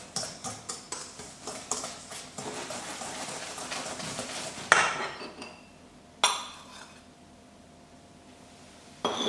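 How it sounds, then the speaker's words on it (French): Small spoon stirring a fizzing natural cleaning mixture, a run of light metallic ticks and clinks against a container, quiet and close, with a few sharper knocks. "Une petite cuillère et vous mélangez."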